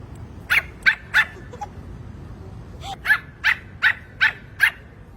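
A small dog barks in two bursts of sharp, high yips at a pet-friendly restaurant, three barks then five more after a pause, close and loud over a low hum of ambient noise.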